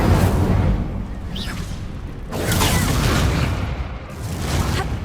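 Fire and explosion spells cast in combat in Hogwarts Legacy, loud booming blasts and whooshing bursts in two or three waves over a continuous rumbling battle din.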